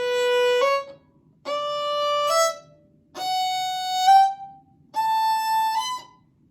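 Four bowed string phrases, each a two-note slur where the second note stops abruptly, separated by short silences.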